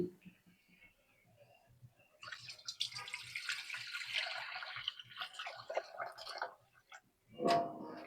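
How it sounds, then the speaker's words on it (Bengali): Water pours steadily into a cooking pot of Malabar spinach curry for several seconds, with a voice speaking briefly before and after the pour. "আমি এখন দিয়ে দিলাম একটু ঝোলের পানি"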